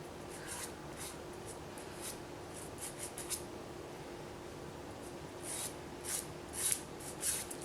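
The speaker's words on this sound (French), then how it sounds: "J'ai limé tout le dessus de mes ongles." Nail file rubbed across the top surface of fingernails before applying gel polish: faint, quick, irregular scratchy strokes in short bursts, close and soft against a quiet background.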